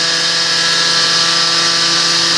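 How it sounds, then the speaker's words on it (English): Tesla turbine spinning steadily during low-temperature waste heat extraction, giving a constant, loud, even whine with steady tonal hum and no breaks or talk. "you can hear the Tesla in the background"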